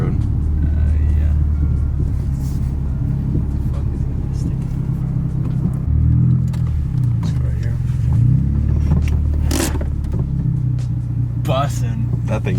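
RHD twin-turbo MK4 Toyota Supra engine idling and revving in short bursts across the road, a steady low rumble with surges, while people talk over it.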